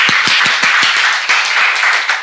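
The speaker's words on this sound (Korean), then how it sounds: "예배 참석했는데 박수로 환영합니다." A church congregation claps to welcome a visitor during a service: brisk, fairly loud applause of many hands, with sharp rhythmic claps standing out, lasting a couple of seconds with no talk.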